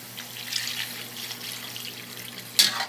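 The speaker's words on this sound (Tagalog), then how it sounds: "Tubig. Lagyan po natin ng tubig." Water is poured into a cooking pan of chicken for pancit guisado, making a steady running, splashing sound at close range. A sharper splash comes near the end.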